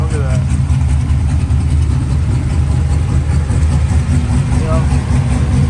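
A built-engine 2019 Honda Accord widebody with a loud exhaust idles with a steady, heavy low rumble that fills the whole stretch, close and loud, with faint voices in the background.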